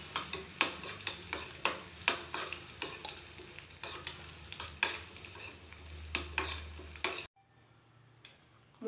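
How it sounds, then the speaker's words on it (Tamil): Cashews and raisins frying in ghee while a spoon stirs them, giving repeated sharp scraping clinks against the pan over a soft sizzle for about seven seconds before the sound drops away to near quiet. "முந்திரி திராட்சை நல்லா நெய்யில் ஃப்ரை பண்ணிட்டோம்."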